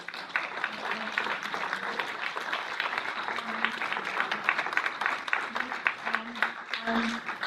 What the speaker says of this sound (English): So if you can give a big round of applause